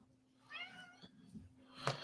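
Fonzie the cat gives a soft, distant-sounding meow, followed by a brief sharper noise, faint against a quiet indoor room hum.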